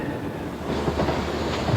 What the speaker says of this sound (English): the trains are run back out into the night, almost ready for the morning schedules